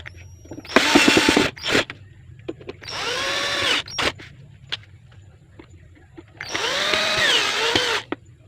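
Cordless power drill driving screws into a D30 Bluetooth amplifier: three loud close bursts of whirring, rising and falling in pitch as each screw seats, with short clicks and handling noises between them.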